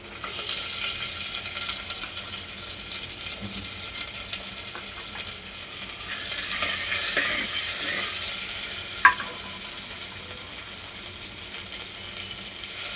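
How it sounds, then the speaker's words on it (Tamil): Finely chopped onion sautéing in a pan with curry leaves and spices for a murungai keerai kuzhambu, a steady broadband sizzle throughout with light stirring scrapes and a sharp clink near the end, no talking. "வெங்காயம் வதங்கட்டும்."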